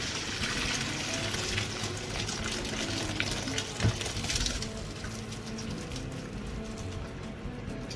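Steady rushing water being poured and drained from cooked rice for mutton biryani, a continuous splashing gush with a brief clatter midway.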